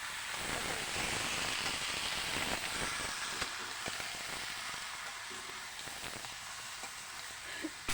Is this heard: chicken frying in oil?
yes